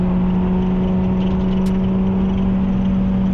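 A Chevrolet Corvette C8 Z51 on a race track gives a loud, steady engine drone with a strong low hum, holding a fairly constant pitch throughout with no voices.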